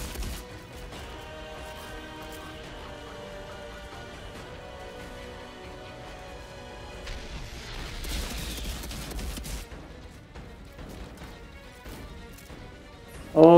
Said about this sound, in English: And lots of explosion.